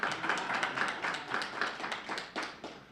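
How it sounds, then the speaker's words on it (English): Applause from a modest audience at a community leadership council gathering, a thin patter of individual claps that is fairly close and moderately loud, tapering off toward the end. "We can get more applause than that."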